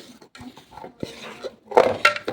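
A plastic lid pops and scrapes off a container of risen bread dough, several close clattering and knocking handling sounds building louder toward the end, with no one talking.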